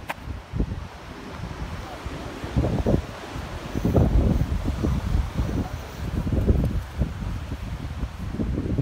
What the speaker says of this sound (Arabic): وفجأة هبت رياح قوية رياح عاصفية رياح